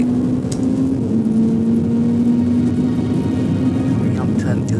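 A Ferrari 488 Challenge race car on track gives a steady engine drone with a sustained pitch held through a short-shifted corner, heard from inside the car, loud and continuous, with someone talking over it.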